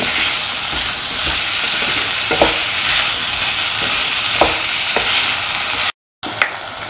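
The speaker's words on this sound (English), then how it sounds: "Saute and mix that over for 3 to 4 hours." Yam and potato stew sautéing in a pan, a continuous hiss of frying with intermittent scraping stirs from a spoon, steady and close, broken by a momentary gap near the end.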